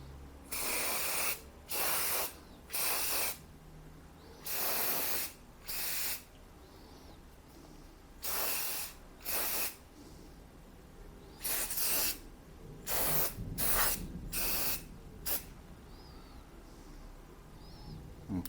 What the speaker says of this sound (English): I will need to spray some more